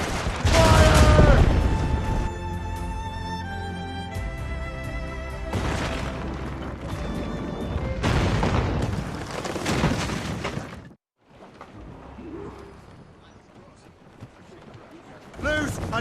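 Ship cannons fire broadside volleys in Assassin's Creed Rogue: heavy booms and rapid bursts of gunfire, then a sudden drop to near quiet before another blast, with shouted voices over the battle.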